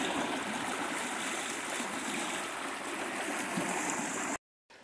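Stream water in a restored channel flows steadily and fairly loudly as a continuous broadband rush, pushed back toward the channel's center, then breaks off abruptly near the end.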